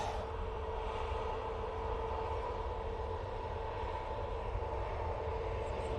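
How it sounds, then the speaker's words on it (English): A small KLM Embraer jet arriving at Manchester Airport from Amsterdam Schiphol, its steady engine roar continuous and fairly close throughout, with no talking. "Looks like a little KLM Embraer."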